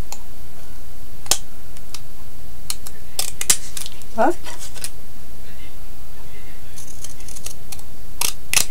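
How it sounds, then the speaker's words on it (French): Pinking scissors snipping paper while making a 3D flower card: a few crisp, isolated snips and clicks spread apart, close up, between short bits of talk. "Toujours avec les ciseaux cranteurs pour le moment"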